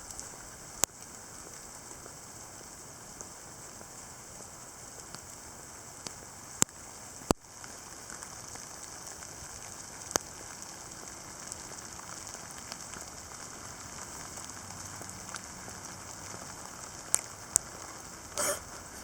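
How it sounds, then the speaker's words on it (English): Heavy June rain falls steadily in a soft, continuous hiss, with a few sharp drips or taps standing out and no talking. "It's always gonna produce a fuck ton of rain."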